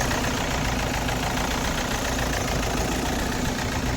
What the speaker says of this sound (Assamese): গাড়ীখনৰ ইঞ্জিনৰ চাউণ্ডটো অলপ বেলেগ হৈ গৈছে